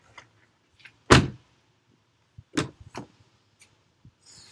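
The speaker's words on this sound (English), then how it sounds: "this car has just amazing and satisfying doors to open and close" Doors of a 2019 Chevy Malibu LT open and shut in a few distinct thunks, one sharp solid slam early and two more close together later, with quiet clicks and handling noises between.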